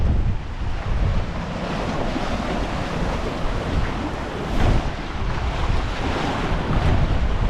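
Strong hurricane wind and crashing surf during Hurricane Ian in the Florida Keys at Islamorada, a loud continuous roar with heavy wind buffeting on the microphone and rolling waves, no voices.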